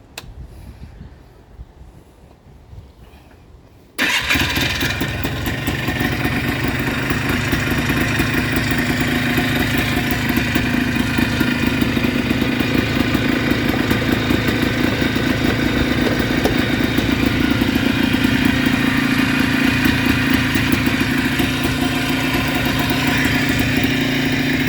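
A 1990 Polaris Trail Boss ATV starts up after a few quiet seconds and settles into a steady, loud, close-up running idle with a clattery, rhythmic engine note that continues to the end.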